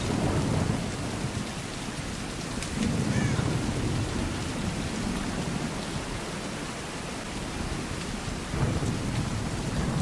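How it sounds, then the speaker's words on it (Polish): Heavy rain pours steadily with rumbling thunder rolling underneath in the video game Tomb Raider, a dense, constant wash of storm sound. "Ten deszcz to jest bardzo realistyczne"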